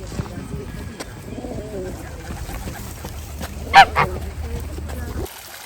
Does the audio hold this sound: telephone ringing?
no